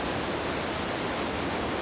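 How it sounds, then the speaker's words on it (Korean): Waterfall hidden in a forest in Vietnam's Truong Son mountains, a steady, dense roar of falling water that stays loud and unbroken throughout, with no voices. "이렇게 숲속에 감추어져 있는 폭포인데"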